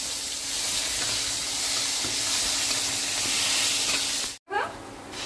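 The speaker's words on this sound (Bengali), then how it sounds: "তেলে গরম মশলা, একটা তেজপাতা, পেঁয়াজটা ভেজে নিচ্ছি।" Onion frying in hot oil with garam masala and a bay leaf, an even, loud sizzling hiss that holds steady, then drops out briefly before resuming.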